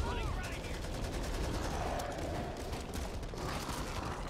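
Rapid gunfire rattles continuously in the co-op shooter game Back 4 Blood, dense bursts of shots layered over a constant roar of combat noise.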